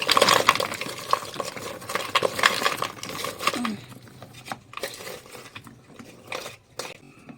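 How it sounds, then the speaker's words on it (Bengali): Lumps of coal poured and tumbling over small pieces of wood in a clay stove, a dense clattering rush for about three and a half seconds, then scattered light knocks and settling rattles nearby. "এই যে কয়লাটা আছে কয়লাটা ওপর দিয়ে করে ঢেলে দেবো"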